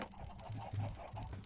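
Chickens in the video game Minecraft cluck in a soft, repeated series of low notes over a steady background hum, with no one talking.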